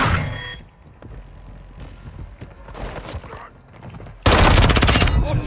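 Gunfire in Call of Duty: Modern Warfare II, with scattered shots and a muffled background din, then a loud close burst of rapid automatic fire in the last second.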